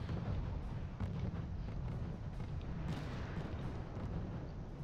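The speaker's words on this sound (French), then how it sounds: "j'ai fait une salve d'artillerie en arrière pour, je vais dire, repousser ses canons d'antichar" Artillery salvo in a real-time strategy video game, a dense rolling barrage of booms and blasts that rumbles continuously and fairly quietly, with no talk over it.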